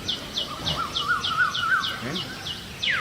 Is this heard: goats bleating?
no